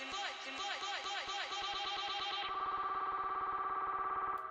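A DJ loop of a dance track is halved repeatedly into faster stutters, then a low-pass filter and reverb thicken it into a droning, pulsing build-up with a washy tail.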